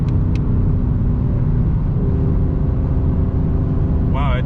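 A 2020 Mustang GT with the ten-speed automatic, traction control off, at full throttle near its 155 mph top speed, giving a loud, steady, dense rumble inside the car, with a brief chirp right at the end.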